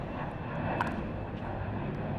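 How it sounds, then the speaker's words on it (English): Airplanes pass low over an outdoor pickleball tournament near LaGuardia Airport in New York City, a steady broad engine roar holding at moderate loudness throughout, with no talk. "it sounds like a war zone with the airplanes going over. You guys can hear that."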